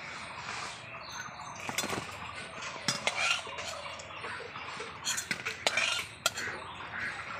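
Fried jackfruit pakoras are lifted out of a pan, with a faint sizzle of hot oil and several sharp clinks and scrapes of a metal utensil against the pan.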